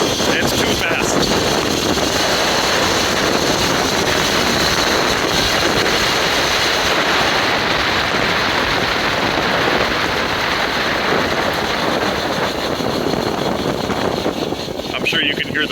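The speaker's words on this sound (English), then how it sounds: "I'm sure you can hear the wind." Strong wind buffets the microphone on a moving YerfDog Spiderbox electric conversion with dual motors, a steady loud roar with broad rushing noise filling the whole stretch, no voices heard.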